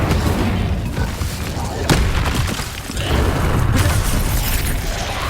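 Confringo blasting spell in Hogwarts Legacy, a dense, loud booming burst with broadband crackle over a continuous rumbling game soundscape, brief sharp impacts near two and four seconds, and a voice calling out underneath.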